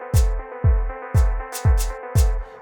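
Afro tech drum loop programmed in FL Studio: a deep, booming kick thumps about twice per second, five hits in steady rhythm, with a bright shaker hiss on top, all over a sustained synth tone, clean and loud with no voices.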